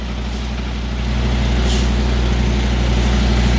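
A truck creeps backward during driving practice in a store parking lot, its low diesel rumble steady and close, swelling slightly after the first second, with a faint hiss of air brakes in the background.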